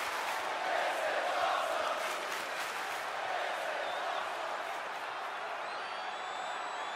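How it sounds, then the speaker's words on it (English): A roaring arena crowd in Birmingham at a WWE 2K20 wrestling match, a dense wall of cheering and clapping sustained loudly throughout as the bout gets underway. "And just listen to this Birmingham crowd as this one gets underway."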